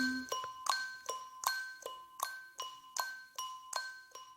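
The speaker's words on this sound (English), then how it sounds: "I played the orchestra bells and made clock sounds with my tongue." Bright, ringing orchestra bell tones struck one after another in a steady rhythm, about a dozen clear notes with short decays, played alone and close.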